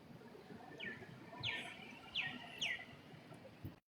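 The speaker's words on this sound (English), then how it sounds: "I hear the birds chirping" Birds chirp outdoors in four short, bright descending calls spaced about half a second apart. They sound faint and somewhat distant over a quiet background.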